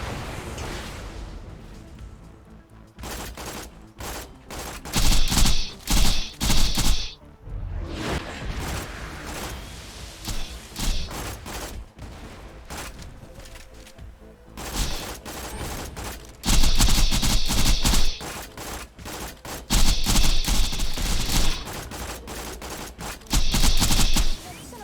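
Rockets and gunfire in a shooter video game during a boss fight, with repeated bursts of rapid fire and blasts in loud clusters separated by quieter stretches, with a voice talking faintly in places.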